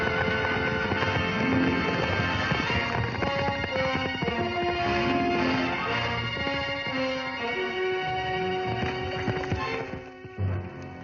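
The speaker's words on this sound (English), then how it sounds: "It looks like Nancy's horse." Horse hooves clip-clop at a steady pace beneath a swelling orchestral film score from a 1953 western, the hoofbeats fairly faint under the music.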